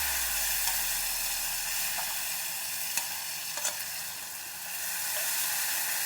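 A loud, continuous sizzle of spices frying in a pan for a Bengali fish and mixed vegetable curry. A few sharp clicks of a utensil against the pan break through, and no voices are heard.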